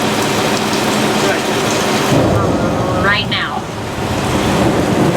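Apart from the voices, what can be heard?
staged rain and thunder on Universal Studios tram tour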